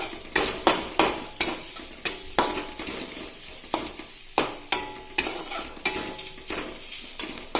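Coconut pieces fry in a pan while a spoon scrapes and knocks against the metal in steady, regular strokes, each one sharp and close over a constant sizzle.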